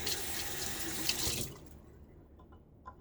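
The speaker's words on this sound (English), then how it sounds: "It still may need a little bit more water." Tap water runs steadily from a faucet to add water to shaving soap lather, rushing loudly for about a second and a half before cutting off, followed by quiet and a couple of faint drips.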